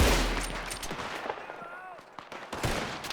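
Gunfire in the video game Red Dead Redemption 2: a rapid run of sharp shots and bursts across the whole stretch, loud and close, with faint background voices mixed in.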